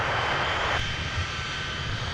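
Airbus A350-900 airliner taxiing in toward Concourse G at Minneapolis–St. Paul airport, a steady loud engine roar with broadband whine that drops slightly partway through, continuous and close, with no talking.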